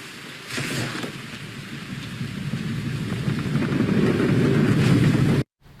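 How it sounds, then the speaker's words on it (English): Thunder rumbles and heavy rain pours down in a movie scene, a dense continuous roar building in loudness with a crack near the start, then cutting off abruptly at the end. "It ends with the thunder, the rain pouring down."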